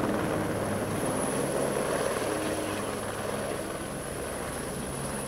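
A helicopter flies in the mountains, its rotor and engine roaring in a constant, dense wash with a thin high whine on top, near and steady throughout without speech.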